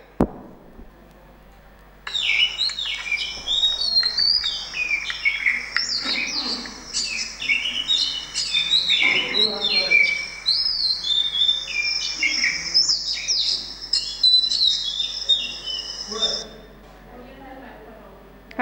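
A recording of an Oriental magpie-robin (dayal) plays its varied whistles and chirps for about fourteen seconds, loud and continuous. A person talks briefly over it.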